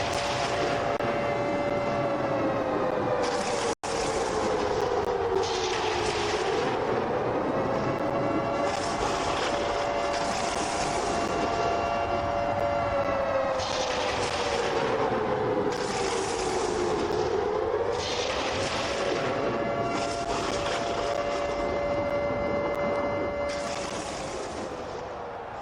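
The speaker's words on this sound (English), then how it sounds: "I know Pittsburgh's hyped for the siren, the first of the night." A stadium siren blares at a Pittsburgh Roughnecks football game against the Tampa Bay Typhoon: a loud, sustained wailing tone that dips and rises, with repeated brassy horn-like blasts layered on top for about twenty-five seconds, with no voices.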